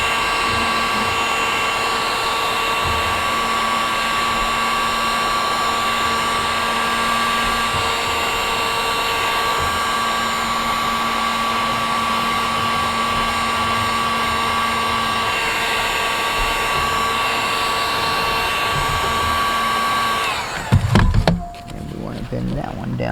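Heat gun or hair dryer blows a steady, loud whine while warming a plastic downspout, running continuously before stopping near the end with handling clatter.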